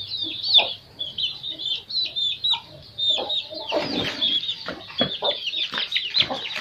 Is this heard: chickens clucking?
yes